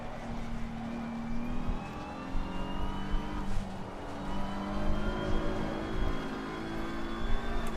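Race cars in Assetto Corsa Competizione at Suzuka roar steadily with engine tones rising and shifting, several cars close together, loud and continuous with no talk.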